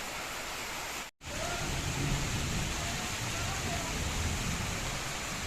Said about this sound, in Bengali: বসতে না বসতে বৃষ্টি এসছে দেখি